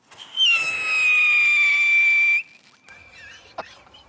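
A whistling firework made of powder packed into the bottom of an open tube that acts like an organ pipe lets out one loud, steady, piercing whistle for about two seconds, its pitch sagging slightly before it cuts off abruptly into quieter background noise.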